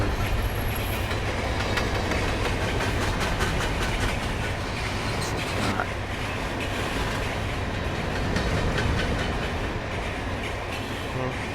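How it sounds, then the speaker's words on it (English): A long freight train, hauled by a Class 70 locomotive on the South Wales coast, rolls past with continuous rumbling and steady clickety-clack from the wheels, occasional metallic squeaks, and no voices. "The hills are alive with the sound of freight liners."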